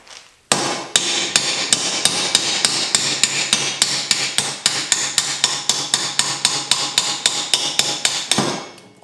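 A hammer strikes a metal nut on a Mustang's turbo LS engine setup about thirty times in a fast, steady rhythm, each blow sharp and close, with no talking.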